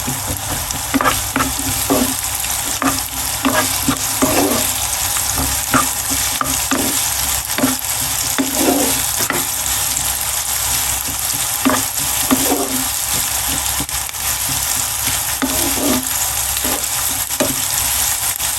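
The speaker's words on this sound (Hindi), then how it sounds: "प्याज को हमने रेड नहीं करना, बस हल्का सा सोते करना।" Onions lightly sautéing in a pan for okra masala fry give a steady loud sizzle, punctuated by regular scraping and clinking strokes of a spoon stirring, with no voices.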